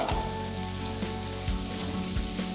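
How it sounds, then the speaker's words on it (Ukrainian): Loud, dense sizzling of fish frying in a pan, continuous throughout with faint occasional stirring clinks. "Перемішуємо і смажимо до золотистого кольору"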